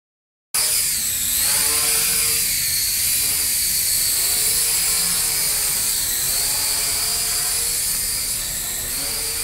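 A four-propeller radio-controlled quadcopter drone flies on Cape Cod, its loud, steady high-pitched propeller whine and buzz running continuously with slight shifts in pitch, with no voices heard.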